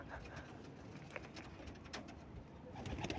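Pigeons cooing in a loft where they have been shut in for seven days, a steady low murmur of overlapping coos with scattered wing and shuffling noises throughout, fairly close and continuous.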